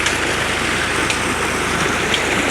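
Tube well water gushing out onto crop fields, a dense continuous splashing rush with a faint steady low pulsing beneath, close and loud throughout.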